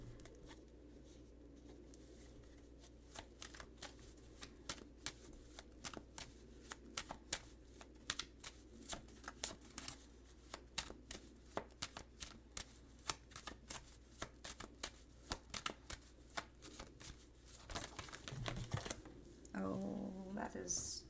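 A deck of tarot cards being shuffled, with rapid riffling clicks and flutters running steadily throughout, a few louder snaps toward the end, close and fairly quiet.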